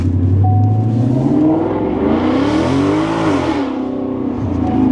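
A Ford S650 Mustang GT fitted with an MBRP race exhaust drives hard, its loud, near exhaust note rising and falling through revs as it accelerates and shifts, alone without talk.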